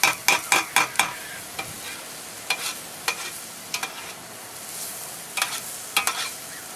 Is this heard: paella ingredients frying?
yes